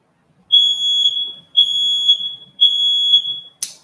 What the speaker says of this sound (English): So there goes the smoke alarm again.